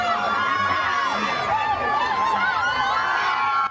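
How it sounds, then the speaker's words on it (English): A large crowd screams and cheers for Barack Obama's arrival on the Fayetteville Technical Community College campus, loud and sustained, with shrill whoops on top and voices mixed into the roar. "A crowd screamed on the campus of Fayetteville Technical Community College as he stepped out of a black SUV."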